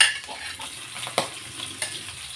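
Garlic and onion sizzle in a hot pan for vegetable lumpia, a steady close frying hiss broken by a few light clinks of a spatula.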